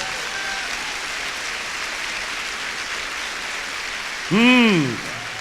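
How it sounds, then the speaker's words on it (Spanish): A church congregation applauding during a sermon, a steady dense wash of clapping, with a single voice calling out in a rising, falling tone near the end. "déselo fuerte al Señor ese aplauso"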